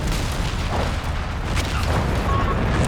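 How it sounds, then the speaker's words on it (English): A registered artillery barrage lands in Company of Heroes 3, a dense, loud wall of rumbling booms and blasts that rolls on without pause over steady low battle noise. "I think there's more registered artillery coming down."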